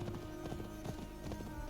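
A horse in Assassin's Creed trots along with an even, repeating clip-clop of hooves close by, steady and fairly quiet throughout.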